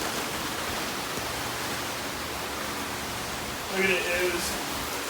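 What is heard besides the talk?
rain falling during outdoor car repair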